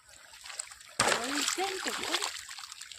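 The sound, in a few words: water splashing while pouring into a field furrow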